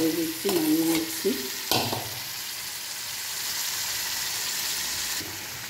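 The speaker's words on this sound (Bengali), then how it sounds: "একটু নাড়াচাড়া করে দিচ্ছি, নাড়িয়ে নিচ্ছি।" Spice paste with water sizzles in a frying pan while a utensil stirs and scrapes, a few bursts of spoon noise early, then a steady close hiss of frying.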